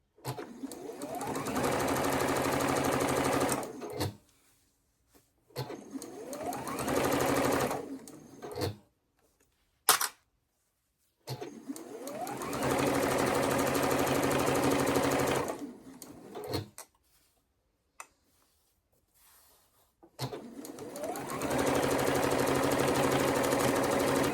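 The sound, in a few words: sewing machine stitching quilt seams with quarter-inch foot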